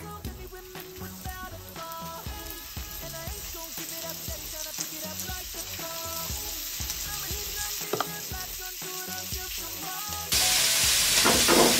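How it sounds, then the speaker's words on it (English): Floured beef chunks browning in hot bacon grease in a pan, a steady crackling sizzle with intermittent pops and scraping as pieces are placed, growing louder and hissier toward the end. "We're going to take our bacon out of the grease and then put the first batch of beef in."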